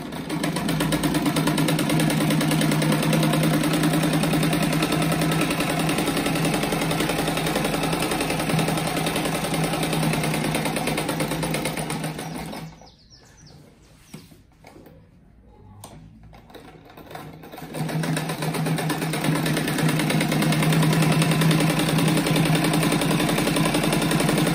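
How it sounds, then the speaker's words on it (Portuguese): A sewing machine stitches patchwork fabric scraps for a placemat, running in a loud, steady whirring drone close by, pausing briefly midway with a few soft handling clicks before starting up again. "Daí então aqui eu costurei até aqui, dei um retrocesso, agora"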